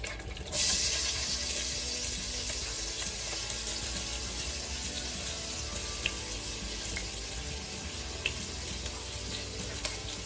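Onions dropped into reheated cooking oil for a spiced gizzard dish catch with a sudden loud sizzle that settles into a steady close hiss with a few sharp pops.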